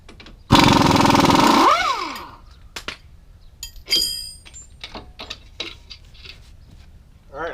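A power tool rattles loudly in one burst of about a second as it removes the bottom bolt of a shock on a lifted Chevy truck, then winds down, followed by scattered metallic clinks and handling noises close by.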